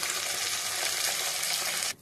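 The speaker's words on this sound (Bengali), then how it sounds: "তারপর মাছগুলো উল্টে পাল্টে ভেজে তুলে নিতে হবে" Pomfret fish frying in hot mustard oil in a wok, a steady dense sizzle with crackle, close and loud, continuing alone until it drops away at the very end.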